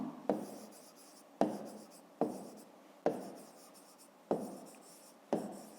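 A pen writes numbers by hand on paper in six separate strokes, each a sharp scratch that fades out, spaced about a second apart and heard close up and alone.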